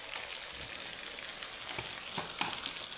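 Crushed cumin and black pepper sizzling in hot oil, a close steady frying hiss with a few soft stirring knocks toward the end, no talk.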